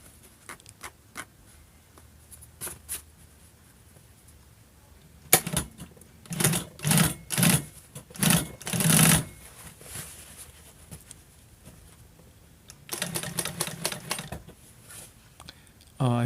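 A sewing machine top stitching a modified flat fell crotch seam on denim jeans, running in short, rapid bursts of rattling stitches with pauses between them, close and clear.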